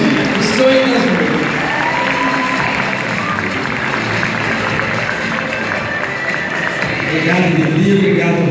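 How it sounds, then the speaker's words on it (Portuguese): A crowd applauds continuously at a surprise on-stage tribute, with dense steady clapping mixed with cheers and scattered voices throughout. "Obrigado por tudo, vamos aplaudir."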